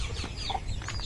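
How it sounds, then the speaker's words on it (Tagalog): A hen clucks softly in short, repeated bursts, close by, with faint background farmyard noise. "Ito naman ay yung kay Rex na inahin."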